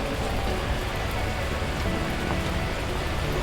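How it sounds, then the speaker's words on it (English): Torrential rain pours down in a video game, a dense, continuous hiss of heavy drops hammering surfaces, loud and steady throughout with no breaks. "the heavens opened up, unleashing torrential rain"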